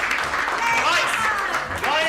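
Children cheer and clap together, a dense burst of applause with excited high shouts and whoops rising over it, loud and close throughout.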